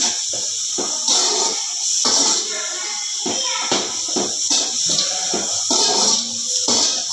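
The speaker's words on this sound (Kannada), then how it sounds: "ಇಲ್ಲಿ ಪನ್ನೀರ್ ಫ್ರೈ ಆಗ್ತಾ ಉಂಟು ನೋಡಿ ಅದು ಸ್ವಲ್ಪ ಹೊತ್ತು ಬೇಕು ಫ್ರೈ ಆಗಲಿಕ್ಕೆ" Paneer cubes for fried rice, cooking alongside capsicum, fry loudly in a pan with a strong, continuous sputtering hiss that rises and falls in waves, close and dense with no talk.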